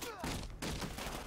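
Rapid bursts of video game gunfire crackle loudly and close, with a person shouting over the shots.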